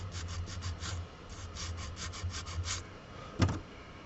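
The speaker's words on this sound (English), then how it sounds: "Sand a little bit more down on it" Sandpaper rubs back and forth on a small piece of a Woodland Scenics coal-loader model kit, a soft rhythmic scratch of short strokes ending in a brief knock.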